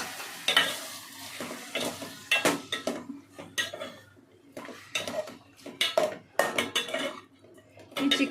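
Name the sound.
stirring chicken in tempering in a pan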